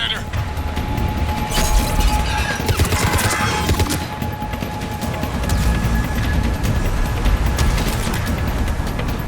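Sustained gunfire in Mass Effect 3, a dense, continuous fusillade of shots and impacts that persists throughout, with voices speaking over the shooting.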